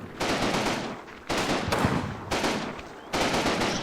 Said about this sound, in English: their machine gun fire does make their presence felt